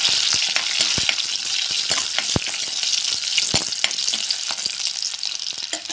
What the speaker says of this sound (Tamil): இதுலேயே இந்த பூண்டு இந்த மாதிரி தட்டி போட்டுக்கோங்க தட்டி போட்டு நல்லா கலக்கி விட்டுருங்க